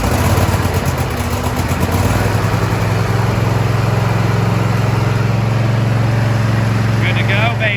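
A zero turn mower's engine runs loud and steady at close range, a constant rough mechanical roar with no pauses.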